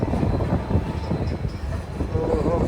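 A train rumbles steadily nearby at Renigunta Junction with a continuous low mechanical roar and clatter, crowd noise mixed into the background.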